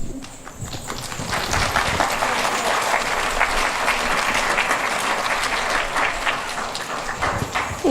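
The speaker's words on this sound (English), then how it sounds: "Make sure to give another round of applause and thank Eliana and Kylie for their hard work." A school Hmong New Year assembly crowd applauds, dense sustained clapping at fairly loud, even level from start to finish, with no speech over it.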